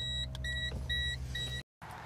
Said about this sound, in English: one of the first things we're going to hear is the vacuum pump running.